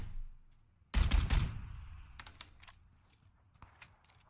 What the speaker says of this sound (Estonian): Igalt poolt laskaks praegu.